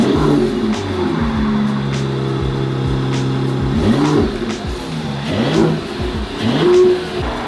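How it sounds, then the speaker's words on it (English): Mercedes E53 AMG hybrid, a salvage rebuild, starting up and running with a steady engine note and a few rising revs, fairly close and loud with no talking over it. "Let's get the E53 started."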